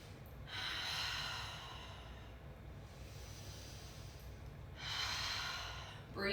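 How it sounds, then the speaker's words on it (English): Slow, deep meditative breaths, with two long, airy inhale-exhale cycles spaced a few seconds apart. They are close and soft, with quiet stillness between them. "Breathing throughout all of this."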